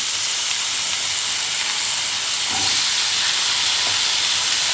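Cut potato pieces dropped into hot tempering oil for aloo fry give a steady, fairly loud broadband hiss and sizzle, close up and continuous, swelling a little partway through, with no talking.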